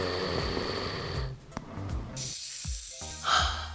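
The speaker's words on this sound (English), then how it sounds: "Snoring is a noisy, rattling sound occurring during sleep." Cartoonish snoring with rattling, snorting breaths repeats several times over a few seconds, loud and close, with no speech.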